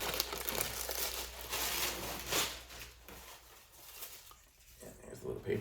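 Plastic packaging crinkles and rustles steadily as a single-sided sling backpack is pulled from its bag during unboxing, close and continuous, with a person speaking over it.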